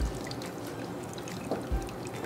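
Cooked octopus is lifted out of a pot of water, with a close, continuous pouring and trickling splash and a couple of soft low thumps.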